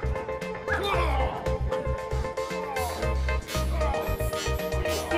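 A police dog barks and yelps in bursts during criminal-catch training, the barks tangled with voices and a busy backdrop of music.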